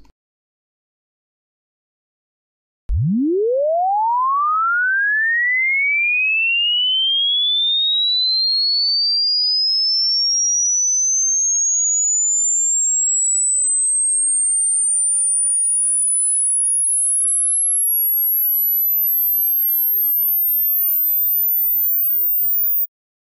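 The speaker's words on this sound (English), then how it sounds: "I can let you hear a frequency sweep if my virtual DJ is on. And it should go quite fast." A pure sine tone from virtual DJ software sweeps continuously from a deep low hum up to a piercing high whistle over about twenty seconds. It sounds alone, after a short silence.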